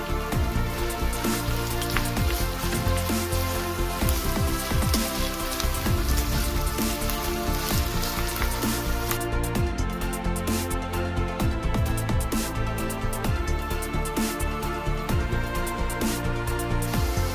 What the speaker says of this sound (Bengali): এখন পেঁয়াজটাকে আমি একটু ভেজে নিব।